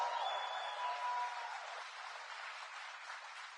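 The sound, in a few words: audience applause for the President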